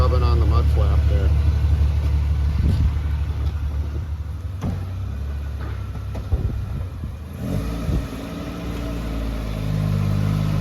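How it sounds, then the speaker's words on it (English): A 1985 AMC Eagle's carbureted engine runs nearby, a steady mid-pitched idle with a few brief revs and clunks, while people talk over it. "Got the engine running, got the fuel to come up from the tank up to the carburetor"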